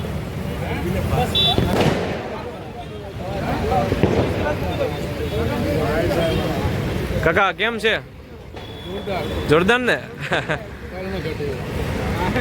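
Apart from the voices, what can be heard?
road traffic at busy roadside soda stall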